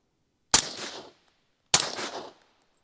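Two suppressed rifle shots, one through a Dead Air Sandman S and then one through a Surefire RC2, each a sharp crack with a short decaying tail, about a second apart with silence between.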